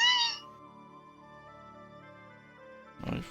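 A domestic cat gives a short, high meow at the start, then a faint steady tone lingers and a second brief, throaty cry comes near the end, fairly close and soft.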